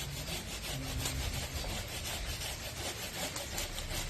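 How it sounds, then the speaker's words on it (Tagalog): A small chainsaw cuts through tree branches with a continuous, rough, grinding rasp, fairly faint and steady from start to finish, with no talking. "Kailangan talaga ang tsensong maliit pang putol po sa mga sanga-sanga."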